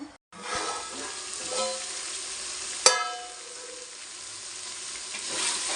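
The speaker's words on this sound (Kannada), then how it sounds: "ಇದಕ್ಕೆ ಈರುಳ್ಳಿ, ಬೆಳ್ಳುಳ್ಳಿ, ಹಸಿಶುಂಠಿ, ಸ್ಪೈಸಸ್ ಇಷ್ಟು ಹಾಕಿ ಸೈಡಲ್ಲೆಲ್ಲ ಎಣ್ಣೆ ಬಿಟ್ಕೋಬೇಕು" Onion, garlic, ginger and spices frying in oil in a pan, a steady loud sizzle with a brief sharp crackle midway and light stirring.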